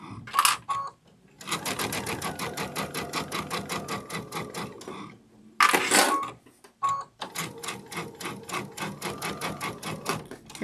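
Sewing machine stitching an accent strip onto a sunflower quilt wall hanging, bursts of rapid rhythmic needle clatter separated by short pauses, close and moderately loud.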